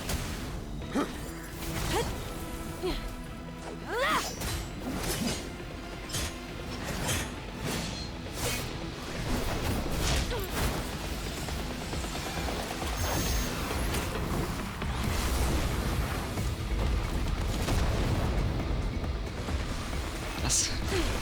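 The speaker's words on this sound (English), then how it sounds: "That's a big explosion." A big explosion in the Genshin Impact video game rumbles amid a busy, continuous wash of battle whooshes, crashes and music, loud throughout with no clear single peak.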